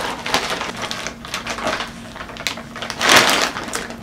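Crinkling, tearing and rustling of a Forever 21 mail package being opened up close, with scattered clicks and a louder rip toward the end.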